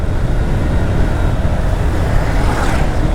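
A Honda X Blade 160 ABS motorcycle running out of petrol, a loud, steady rough engine and road rumble close by that carries on for the whole stretch without any clear break.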